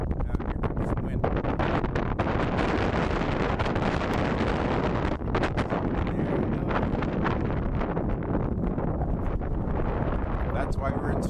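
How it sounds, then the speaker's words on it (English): Strong wind buffets a sailing boat off the Queensland coast near Stonehaven, a steady loud roar of gusts on the microphone that persists throughout with faint water sounds beneath. "Here comes some wind."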